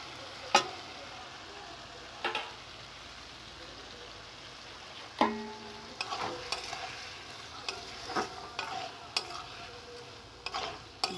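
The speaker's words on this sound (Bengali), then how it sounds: "আলুর সাথে ভালো করে কষিয়ে নেব।" Boiled dal is stirred into fried spices and potatoes for a spinach dal. It comes across as a quiet background hiss broken by sparse, sharp spoon clicks and scrapes against the pot.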